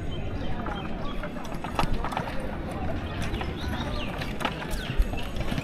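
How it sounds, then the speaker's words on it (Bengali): Hooves of horse-drawn carts clip-clop on the ground at a rural char-area village market in Bangladesh, irregular and moderately close, amid a busy crowd murmur with people talking. "পণ্যবাহক হিসেবে কিন্তু এই যে ঘোড়ার গাড়িগুলো ব্যবহৃত হয়"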